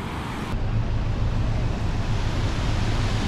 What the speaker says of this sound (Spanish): Y el río es grande, ojo.